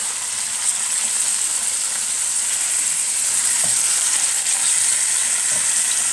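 Chicken liver frying in ghee or oil gives a continuous bright sizzle and hiss, close and steady throughout, with occasional soft stirring knocks.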